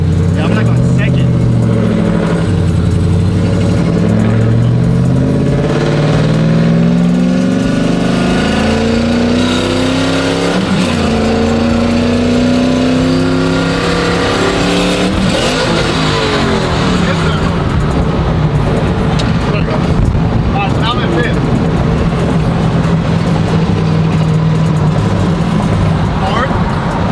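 A sequential burnout truck engine revs loudly and continuously, pitch climbing and dropping as gears shift, with someone talking over the roar throughout.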